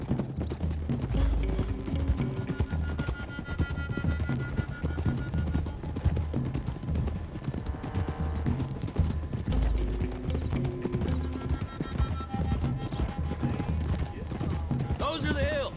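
Horse hooves clip-clop steadily at a riding pace in Red Dead Redemption 2, a continuous rhythmic trot running beneath game music and background voices.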